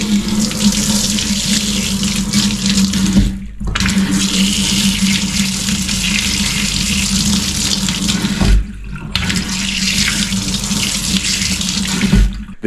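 Water pouring from a kitchen sink tap in a hotel apartment in Reykjavik, a loud steady close rush of running water, cut off twice by brief pauses before starting again.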